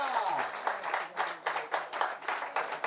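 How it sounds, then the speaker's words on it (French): Audience applause on a live broadcast show, a steady patter of clapping with rhythmic surges, mixed with a voice talking over it. "On l'applaudit très très fort"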